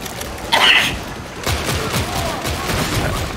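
Gunshots in the sci-fi shooter game Warhammer 40,000: Darktide during a Psyker mission on Chasm Station: a sharp crack, followed by a dense run of repeated close, loud shots over a rumbling battle backdrop.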